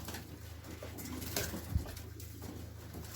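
Pigeons in a loft coo faintly and steadily under a low constant hum, with a brief scuffle or flutter partway through, no voices.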